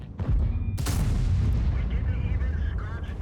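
Object 268v4 tank destroyer in World of Tanks fires one loud, close booming shot with a long rumbling tail, followed by battle ambience.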